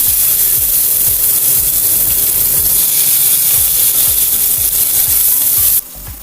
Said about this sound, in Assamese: অকণমান জিৰা দিছোঁ। কাটি থোৱা পিঁয়াজ দিছোঁ।